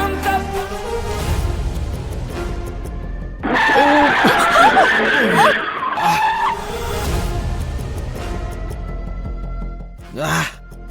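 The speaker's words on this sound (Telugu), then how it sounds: "ఏంటి సార్ సడన్ గా బ్రేక్స్ వేస్తారు?" A car brakes suddenly, its tires screeching in a loud, wavering squeal that lasts a few seconds over background music and a voice, then fades back to a steady engine hum.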